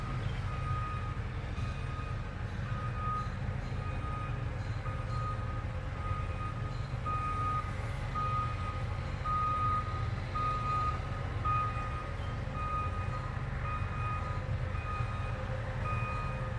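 A truck's reversing alarm beeps steadily in a regular rhythm, moderately distant, over a continuous low engine rumble.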